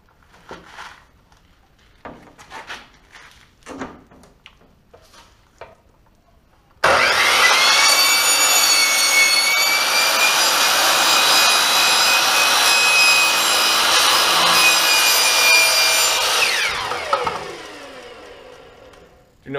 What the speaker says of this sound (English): like steel, you can cut it with a standard carbide blade.